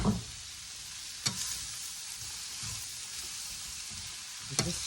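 Mushrooms and chicken sizzle and fry in avocado oil in a pan, a steady close crackle with a few sharper clacks of a utensil stirring against the pan.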